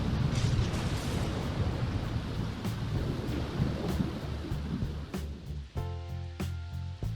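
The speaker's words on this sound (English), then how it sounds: "And Kylie is upset with all this rain." Steady rain hisses and patters in a video game, with a low rumbling bed beneath the downpour; near the end, soft musical tones rise over the rain.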